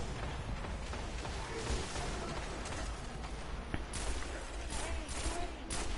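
Rapid gunfire from a Destiny shooter match, dense continuous bursts and impacts filling the scene, with players speaking over the noise.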